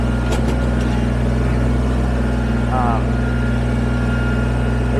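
A Kubota BX23S compact tractor idles with a steady, droning engine hum that runs loud and unbroken through the whole stretch, a brief faint tone rising above it midway.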